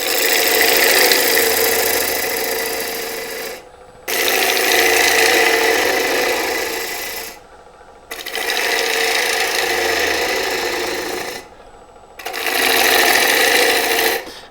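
A wood lathe turns a mulberry bowl blank while a tenon cylinder is shaped, making a loud, steady whir with scraping texture in three long passes, each ending in a brief drop.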